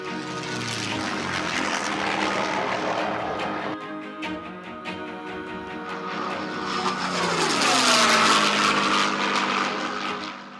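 A P-51C Mustang warbird in Red Tail markings flies by with a loud, sustained piston-propeller engine drone that swells and fades, rising again toward a nearer, louder pass.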